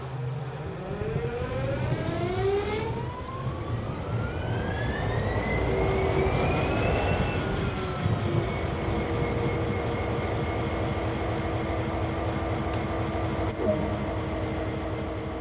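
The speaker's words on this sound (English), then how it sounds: "With the engine now running, set the isolation switch to the run position." An SD-40 diesel locomotive engine in Train Sim World 2 spins up and settles into a steady idle, with a rising whine climbing over a constant low throbbing rumble, heard up close and alone.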